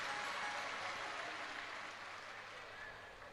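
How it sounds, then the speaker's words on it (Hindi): An audience at a Shiv Mahapuran katha gathering claps to welcome the host family, a soft, even wash of applause that holds steady and fades slightly toward the end. "एक बार यजमान परिवार के लिए जोरदार ताली बजाकर स्वागत"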